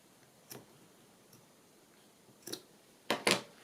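Scissors snip through a flower stem during paper journal crafting, giving a few sharp, close clicks: one near the start, another mid-clip, then a quick double snip at the end, with quiet pauses between.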